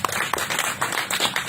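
Brief, scattered clapping from an audience at a business roadshow event, a short burst of hand claps heard close and uneven.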